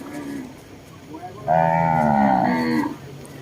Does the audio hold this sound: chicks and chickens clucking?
no